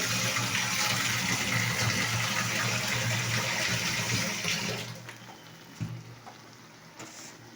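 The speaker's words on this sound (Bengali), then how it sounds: "এবার জল দিয়ে দিলাম, জল দিয়ে দিলাম।" Water pours into a cooking pot of vegetable curry in a steady, loud gush that lasts several seconds, then cuts off, leaving a few faint clinks and drips.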